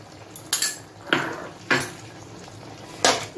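Boiled potatoes being stirred in a cooking pot as fried white cumin paste is mixed in, a spoon scraping and knocking against the metal in four or five distinct strokes, close and clear without talk.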